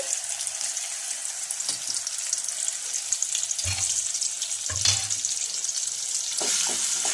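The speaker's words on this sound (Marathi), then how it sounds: "आणि छान असं दोन ते तीन मिनिटं फ्राय करून घ्यायचं आहे" Cumin, mustard seeds and a coarsely pounded paste fry in oil with a soft, continuous sizzle, broken by a few crackles and spoon clinks against the pan.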